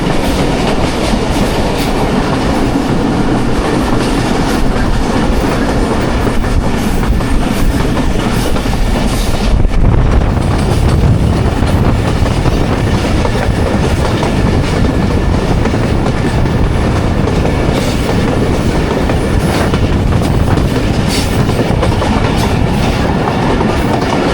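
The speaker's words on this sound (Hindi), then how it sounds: "हरो रिवर से गुजर रही है ट्रेन।" The Jaffar Express runs on the rails between Attock and Rawalpindi, heard from on board. A loud, unbroken rumble and clatter of wheels carries on for the whole stretch, with one heavier jolt midway and no talking.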